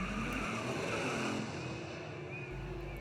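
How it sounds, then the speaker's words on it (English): A race car engine in the video game Grid Legends revs hard, a loud sustained roar with a low drone and brief tire squeals, heard alone without talk. "And now some revving engine up."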